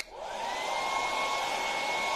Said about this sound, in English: Oh, I should have hit that with the hairdryer too.